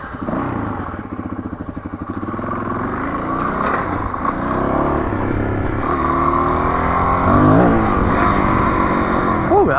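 Off-road motorcycle on a hard-pack dirt OHV truck trail in the valley, its engine droning steadily with repeated revs and pitch swings as the rider accelerates and pops a wheelie, loud and close throughout.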